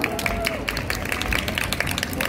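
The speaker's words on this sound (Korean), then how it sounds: "박수 한번 주십시오." A street crowd claps for an a cappella group performing outdoors in Hongdae: a busy wash of applause mixed with crowd noise and babble, fairly steady throughout the short stretch.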